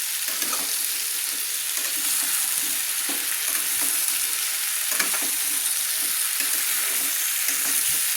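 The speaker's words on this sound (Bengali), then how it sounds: "দিয়ে ভালো করে আমি নেড়ে নিচ্ছি" Raw pumpkin pieces fry with a fish head in a pan, giving a constant loud sizzle broken by repeated scraping stir strokes as the mixture is turned over and over.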